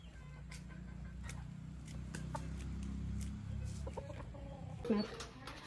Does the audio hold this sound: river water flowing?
no